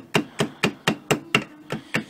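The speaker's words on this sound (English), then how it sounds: "with the other side of the hammer, I go around the outside" A hammer taps around the outside edge of a gasket laid flat to cut its shape, giving eight evenly spaced, sharp, close knocks at a steady rhythm with no talking.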